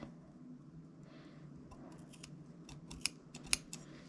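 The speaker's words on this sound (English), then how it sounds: "I am just going to stick my scissor inside the cord and snip it" Scissors snipping through a cord for a DIY flower collar, two crisp close cuts near the end over quiet background rustling.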